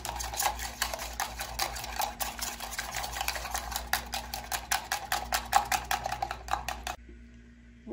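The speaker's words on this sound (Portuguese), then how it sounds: "tá misturando aqui esse ovo" A fork or whisk beats an egg with salt in a bowl, brisk rapid clinks and scrapes in a fast steady rhythm, close and clear, stopping abruptly near the end.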